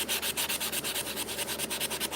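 A knife blade is polished to a mirror finish with rhythmic back-and-forth rubbing strokes, about ten steady passes, close and loud, with no voices.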